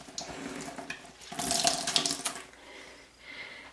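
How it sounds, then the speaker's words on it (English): A tap runs water into a sink to wet a sponge during an at-home spa night, a steady close splash that swells for a second or two in the middle, then tapers to a softer trickle. "So, okay, I'm gonna wet my sponge."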